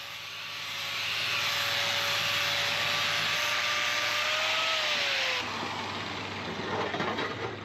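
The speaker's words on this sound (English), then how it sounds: "Let's get the mill scale off this 1-inch square tube and start making sparks." An angle grinder removing mill scale from 1-inch square steel tube for a dump trailer repair, a steady loud whining drone with a sustained tone that shifts slightly, then the pitch drops and the grinding eases off near the end.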